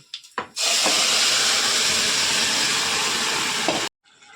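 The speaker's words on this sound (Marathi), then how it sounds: "आता देऊया फोडणी." Hot spiced tempering oil (phodni) with asafoetida poured into a taro-leaf vegetable dish, a brief clatter then a loud, sustained hissing sizzle lasting about three seconds before it cuts off abruptly, close by and alone.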